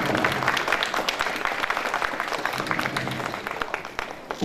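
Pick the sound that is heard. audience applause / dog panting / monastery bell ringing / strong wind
audience applause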